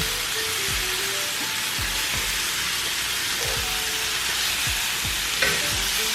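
Potatoes and onions frying in a cast iron skillet, a dense, even sizzle like rain on a surface, continuous throughout with a few faint clicks of stirring.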